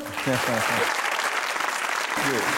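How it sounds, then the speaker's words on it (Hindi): A studio audience at a Hasna Mana Hai comedy talk show breaks into steady, dense applause, with a voice talking briefly just before it and again as it ends. "वेरी गुड, तालियां।"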